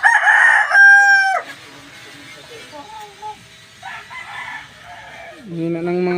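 Rooster crowing loudly up close with hens clucking around it on a small backyard farm, several drawn-out crows and calls spread across the stretch while someone talks quietly in between.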